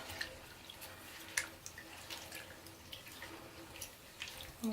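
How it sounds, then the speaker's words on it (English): Raw suri alpaca fleece being rinsed and swished around in water, quiet sloshing and dripping with irregular soft splashes, close and faint. "This is the first rinse."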